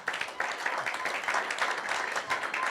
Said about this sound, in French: On va s'applaudir.